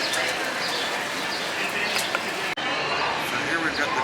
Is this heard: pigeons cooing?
yes